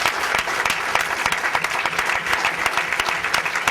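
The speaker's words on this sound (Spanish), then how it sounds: "un aplauso muy fuerte para aquellas personas y aquellas compañeras y compañeros que cayeron defendiéndonos del fascismo" Loud, sustained applause from a crowd at a political forum on the far right, honouring those who fell fighting fascism, with sharp individual claps standing out from a steady dense roar.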